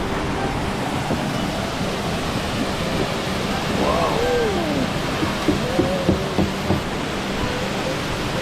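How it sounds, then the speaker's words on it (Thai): Steady broadband rush of falling water from Lan Sadet waterfall on the Kew Mae Pan trail, Doi Inthanon, Chiang Mai, fills the scene while faint voices drift in and out in the background. "น้ำตกลานเสด็จจุดที่สอง"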